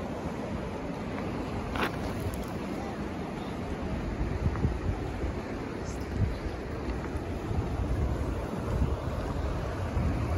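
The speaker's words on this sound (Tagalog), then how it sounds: "Ganda ng waterfalls, oh, Takaw Falls." Takakkaw Falls, a waterfall in British Columbia, gives off a steady broadband roar of rushing water, continuous and even, with some gusts of wind buffeting the microphone.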